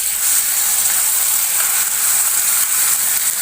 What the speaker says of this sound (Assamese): এয়া পিয়াজখিনি মই পুৰা ৰেড হোৱালৈকে ভাজিছো